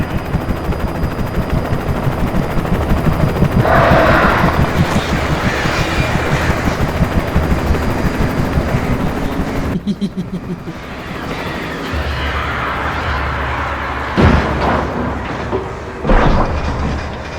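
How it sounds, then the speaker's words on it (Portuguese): Helicopter in the video game Alan Wake being shot down amid sustained gunfire, a steady rattling barrage that cuts off around ten seconds, followed by rumbling and a few scattered booms. "Olha, destruiu o helicóptero, irmão."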